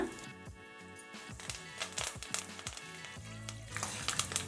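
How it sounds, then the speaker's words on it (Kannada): Curry leaves and peanuts fry in hot oil with a soft, continuous sizzle and occasional stirring, fairly quiet and close, with no talking. "ಕರಿಬೇವು ಹಾಕೊಳ್ಳೋಣ"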